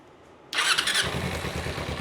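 After a quiet moment, a motorcycle engine cranks and catches with a sharp burst, then settles into a low, throbbing idle close by.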